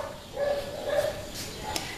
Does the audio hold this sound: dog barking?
yes